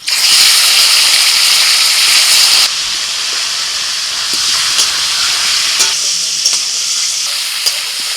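Chicken tipped into a hot pot with cardamom, cloves, cinnamon and torn bay leaves, giving a loud, bright sizzle that suddenly drops to a softer, steady hiss with scattered crackles.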